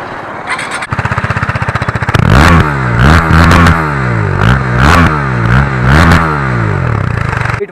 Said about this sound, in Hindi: I like the KTM Duke exhaust sound man